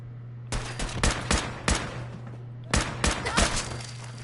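Gunfire from the Fallout 4 video game, a series of sharp, loud shots in two bursts with brief pauses between them, and no talking over them.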